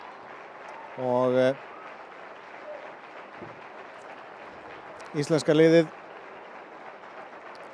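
A stadium crowd applauds the Iceland women's national football team after their win over the Netherlands, a steady soft patter of clapping under two short bursts of a commentator's speech.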